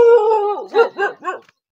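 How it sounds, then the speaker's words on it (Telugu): A dog gives a drawn-out howling whine followed by three short, sharp barks, loud and close, with no voices over it. "చూడండి, కుక్క అయితే గోలకేస్తుంది"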